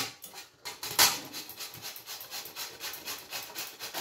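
Bottle gourd rubbed against a kitchen grater in quick, even strokes, a soft repeated rasping scrape close by, with one sharper scrape early on and no voices.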